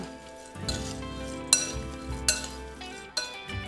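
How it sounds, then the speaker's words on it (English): Warm nuts tossed with dried sour cherries and blueberries in a bowl, giving close clinks and scraping stirs against the bowl with a few sharper knocks, no talking. "we're going to add our hot nuts here, and we're gonna mix it up"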